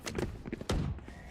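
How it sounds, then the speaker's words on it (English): A swarm grenade placed in Valorant lands as a cluster of short thunks and taps, close and fairly quiet, followed by a brief hum. "Placing swarm grenade"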